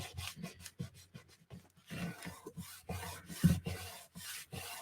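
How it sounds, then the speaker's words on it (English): Paper pressed and rubbed by hand onto a junk journal cover, making repeated soft, dry scuffing strokes in an uneven rhythm, close and quiet with no voices. "I'm just rubbing, putting pressure down"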